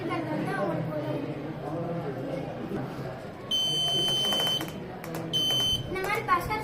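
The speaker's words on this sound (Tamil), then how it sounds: "இந்த மாதிரி பஸ்ஸர் சவுண்ட் அடிக்கிறனால" An electronic buzzer alarm on a homemade earthquake warning device gives two loud, steady beeping bursts of about two seconds and one second. The bursts sound over constant crowd chatter and talk.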